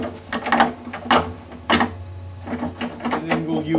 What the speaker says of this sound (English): We'll fasten down our clamps.